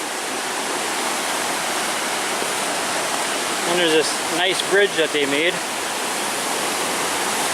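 River rapids rush in a steady, loud roar of water along a hiking trail, while a person speaks briefly over the torrent.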